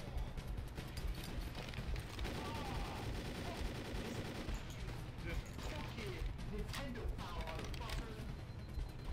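Gunfire in the video game Halo Custom Edition: dense, rapid bursts and repeated shots fire continuously at close range, while a voice talks over the action.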